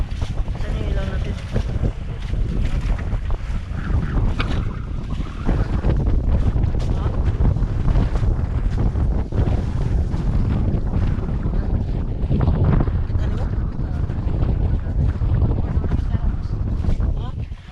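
Strong, gusty wind roars steadily across the microphone during stormy weather after Typhoon Enteng, a dense, unbroken rush with buffeting bursts that lasts the whole stretch.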